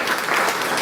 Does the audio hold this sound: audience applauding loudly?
yes